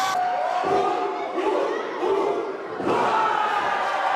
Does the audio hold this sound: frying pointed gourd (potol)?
no